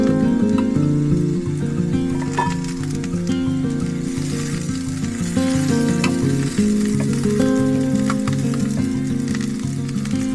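Egg and mushroom sizzle steadily in a pan on a camping van stove, being stirred for a breakfast muffin, with no talking.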